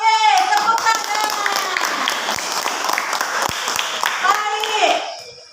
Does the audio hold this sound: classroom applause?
yes